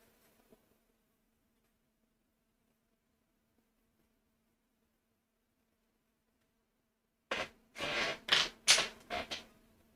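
Colored pencil rubs on paper in a few quick, close, scratchy strokes clustered near the end, after a long stretch of near silence.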